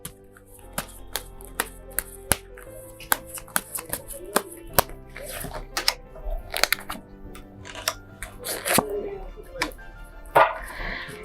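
Tarot cards being drawn from a deck, close up, with a quick run of crisp taps, snaps and shuffling rustles at an irregular pace, and no talking.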